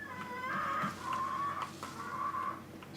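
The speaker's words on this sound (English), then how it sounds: "About 20 minutes of listening to that bird go off was too much for me." A bird clucks in the survival video game 7 Days to Die, a run of loud, close, repeated clucks with rising squawky calls, heard alone with no talk.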